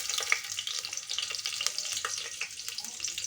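Cloves and whole spices frying in oil for chicken biryani, a soft continuous sizzle with scattered small crackles and pops, fairly quiet.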